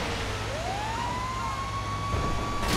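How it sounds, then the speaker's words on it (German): A fire truck siren in GTA Online wails loudly and close, its tone sweeping upward and then holding a steady high pitch over low engine rumble. "Also ich fahre jetzt mal mit meinem Feuerwehrauto hier ein bisschen durch die Gegend"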